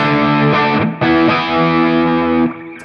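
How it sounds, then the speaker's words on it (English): An electric guitar plays through a Big Joe Empire Dual Overdrive pedal, giving a thick, full overdriven tone that is not heavily saturated. Sustained chords ring out alone, with a brief break before a new strum. "Nice thick overdrive."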